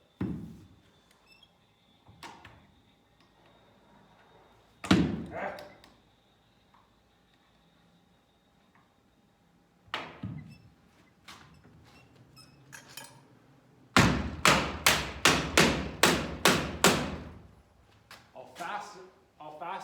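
A metal stud pushed into a pocket door clip gives sharp metallic clicks and knocks, a few isolated ones and then a quick run of rattling taps near the end, with a quiet background.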